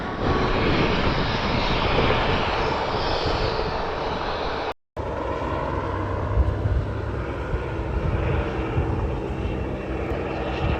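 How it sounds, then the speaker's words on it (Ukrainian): A small private propeller airplane engine drones loudly and steadily nearby at Dawson City airport, briefly cut off, then continuing with a rough, throbbing roar. "І багато таких маленьких приватних літачків."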